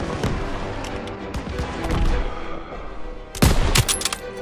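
Rapid submachine gun and rifle fire rattles through a Call of Duty World War II battle, with dense overlapping shots and a loud close burst near the end over a constant battlefield din.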